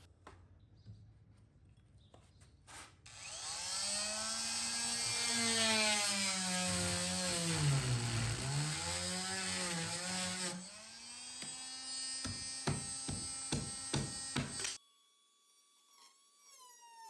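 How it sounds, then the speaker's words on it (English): A circular saw cuts through the base of an old dresser, its whine rising and sagging under load for several seconds, then a series of short sharp bursts follows before it stops; no talking. "I'm going to use my circular saw to cut off as much as I can"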